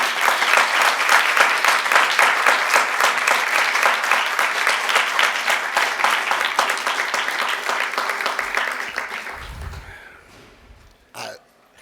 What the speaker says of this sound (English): let's give a great round of applause for Payton Blau and all the good work